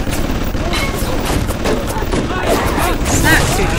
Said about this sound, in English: Love to know why that was just shooting at me.